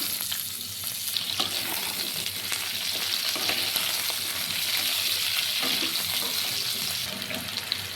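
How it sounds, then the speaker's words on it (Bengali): Potatoes fry in oil left over from frying boal fish, giving a steady, close sizzling hiss that runs evenly throughout with faint scraping underneath. "ওই মাছ ভাজার তেলে এবার আমি আলুটাকে ভেজে নেব।"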